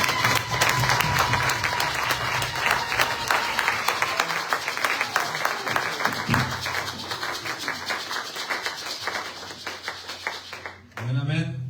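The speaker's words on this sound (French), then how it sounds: "Je voudrais qu'on l'acclame très fort." A church congregation at a Sunday youth service claps loudly and steadily for about ten seconds as a dense, close applause that thins near the end, with voices mixed in.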